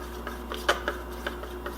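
Homemade beet root powder being stirred into a mixture in a bowl: a few light clinks and scrapes of a utensil against the dish, close and fairly quiet, with no talking.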